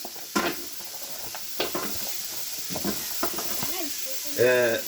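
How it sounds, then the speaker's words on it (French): Onion sautés in olive oil in a casserole for osso buco, with a soft continuous sizzle and a few clinks and stirring sounds close up. A brief voice breaks in near the end. "L'oignon, pardon, je fais revenir l'oignon."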